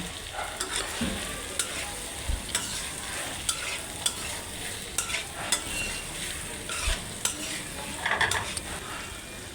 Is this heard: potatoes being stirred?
yes